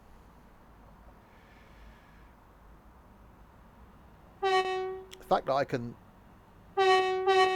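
Train horn from Train Sim World 2, sounded remotely while the player stands away from the locomotive: two loud sustained multi-tone horn blasts, the first broken by a short speech-like burst, after quiet ambience with a voice talking.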